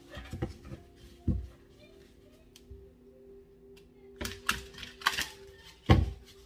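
Tarot cards being shuffled by hand in bursts of soft riffling and tapping, with quiet pauses between, close and fairly faint.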